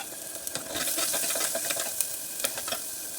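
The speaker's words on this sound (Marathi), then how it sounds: "तेल तापले त्याच्यामध्ये हा मसाला घालते" Masala paste of red chutney, onion and garlic fries in hot oil in a clay pot for village-style mutton curry, giving a steady close crackling sizzle with scattered sharper pops and soft stirring scrapes.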